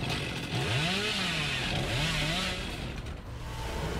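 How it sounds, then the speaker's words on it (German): The Hillbilly's chainsaw revs in Dead by Daylight during a sprint attack, a loud close engine whine rising and falling in pitch in repeated surges, with no talking. "Also einen Angriff mit der Kettensäge."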